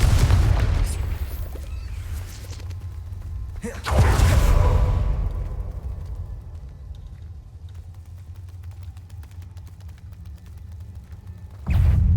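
Confringo, a blasting spell in Hogwarts Legacy, goes off as a heavy, booming burst with a rushing whoosh, followed by a long decaying rumble and another sharp boom near the end.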